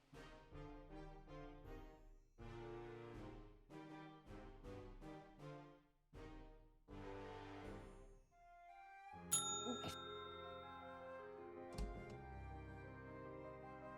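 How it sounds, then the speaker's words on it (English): A bell is rung in the video game Nine Noir Lives: a few bright, ringing strikes with lingering decay that follow a stretch of rhythmic, garbled, voice-like babble. "Stop ringing the bell!"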